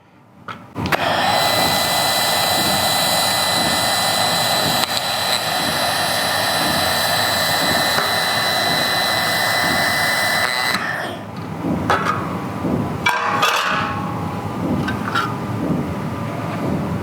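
An overlap joint is welded on aluminium sheets: a loud, steady hissing crackle of the arc runs for about ten seconds, then shorter, broken bursts follow at close range.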